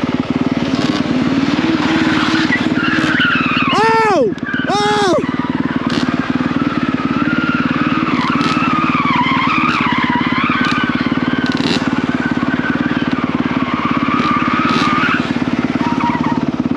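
A 2022 Honda CRF450R dirt bike on a street ride gives a loud, steady engine drone with rising revs, and brief squeals as the tires skid. Riders talk over it.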